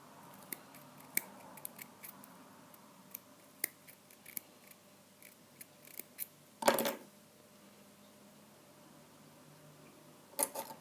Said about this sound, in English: let's trim this cotton a bit